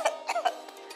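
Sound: cough demonstrated by teacher

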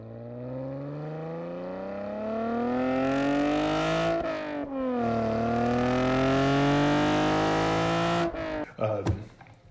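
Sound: Chevrolet Camaro V6 1LE engine revving

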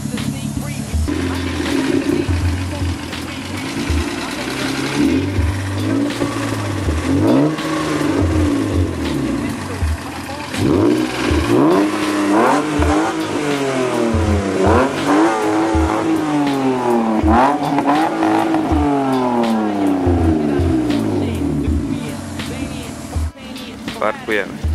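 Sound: BMW E30 car with straight-through exhaust revving and driving

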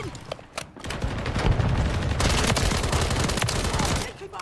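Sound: gunfire in a video game

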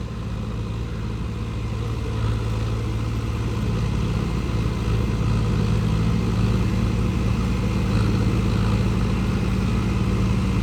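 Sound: tractor engine running

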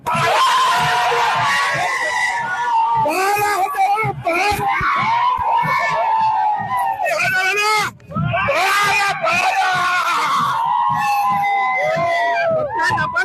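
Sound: crowd cheering at election victory celebration

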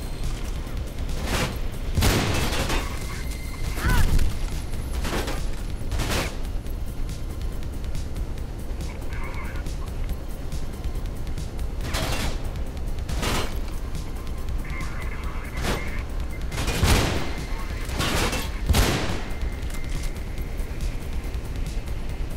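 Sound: gunfire in a video game

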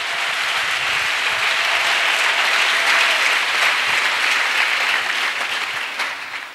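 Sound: congregation clapping as an offering to Jesus

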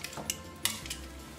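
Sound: flipping seasoned meat over in a pan for pozole

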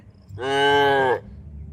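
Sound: calf mooing loudly

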